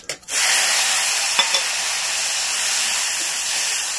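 Tomato hits hot oil tempered with whole cumin, bursting into a loud, bright sizzle right after a brief clatter, then settling into steady close frying hiss.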